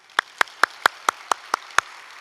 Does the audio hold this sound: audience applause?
yes